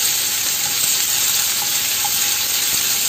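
Onion and garlic sizzle steadily in a hot frying pan, a dense, close, continuous hiss with no voices.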